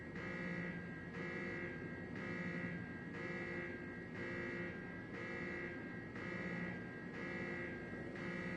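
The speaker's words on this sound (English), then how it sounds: "Huh? The alarm? What's going on?" An alarm blares in Genshin Impact, a steady pulsing tone repeating about once per second, with a buzzing, harmonic-rich quality that stays loud and continuous throughout, with no voices.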